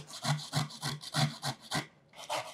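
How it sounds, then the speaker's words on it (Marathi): A carrot is rubbed against a hand grater in a home kitchen, giving steady rhythmic rasping strokes about three per second. The sound is close and moderate, pauses briefly, then resumes. "आता गाजर किसून घेते."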